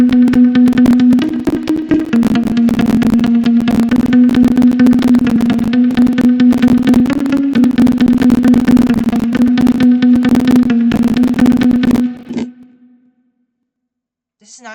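Electric guitar recorded in Ableton holds a bright, sustained, heavily processed tone for about twelve seconds, loud and dense, then cuts off abruptly into silence with a faint blip at the very end.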